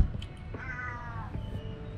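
A cat at a bungalow on Koh Tao, Thailand, gives one drawn-out, oddly strained meow that sounds almost crow-like, up close over a low background hum, with a few soft knocks around it.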